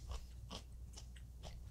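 Pickled ginger eaten during a Japanese feast of sashimi and squid karaage gives four soft, crisp bites at a steady pace, close to the microphone and faint over a low hum.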